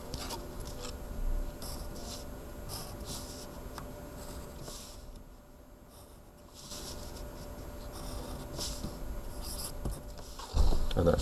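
A pencil scratches steadily across paper, drawing a shape on a grid in short strokes with a brief pause midway, quiet and close.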